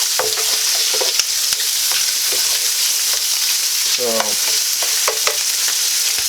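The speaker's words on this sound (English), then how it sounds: "So we're just gonna give this a little bit of time to cook up and brown a little bit." Hot smoked sausage frying and browning in a pan, giving a constant close, bright sizzle with occasional soft ticks and pops and no voices.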